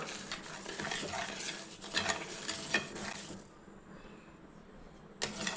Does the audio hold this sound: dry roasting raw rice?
yes